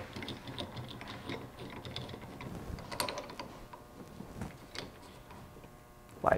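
Quiet clicking of a ratchet tightening the legs on a Land Cruiser split-case transfer case, irregular small mechanical ticks and scrapes close by, ending with a sharper metallic clack.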